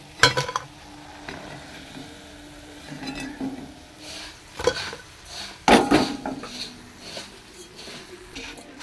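Fried food is lifted out of a pan and served with metal utensils. Scattered clinks and scrapes of cookware rise and fall over several seconds, with a few sharp knocks and a soft background hiss.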